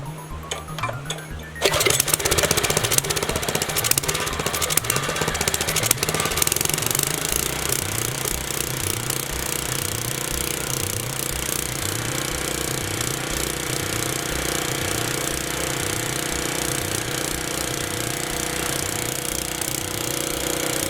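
A small engine fires up after a brief moment and then runs continuously with a rapid, rhythmic mechanical chatter, loud and close, steady throughout with no talking.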